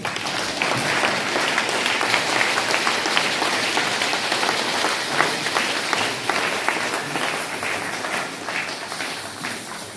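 A church congregation at a night prayer service breaks into loud, sustained applause, a dense, even wash of clapping that fills the room throughout.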